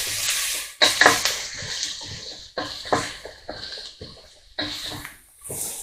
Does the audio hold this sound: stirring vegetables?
yes